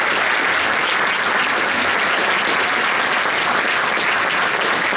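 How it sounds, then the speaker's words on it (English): An audience at a youth jazz orchestra Christmas concert claps for the trumpet section, dense steady applause filling the hall, loud and even throughout with no talk. "So that's a special clap for the trumpet section"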